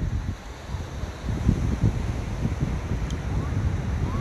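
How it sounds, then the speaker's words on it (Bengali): Sea waves roar on Kolatoli beach at Cox's Bazar in winter, a steady broad rumble with wind buffeting the microphone and faint voices in the background. "সমুদ্রের ঢেউ এবং গর্জন খুবই,"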